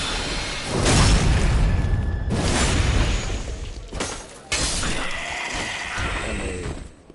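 Soul spears cast in Dark Souls 3, several loud whooshing magical blasts in quick succession, each a broad burst that fades with ringing, shimmering tails.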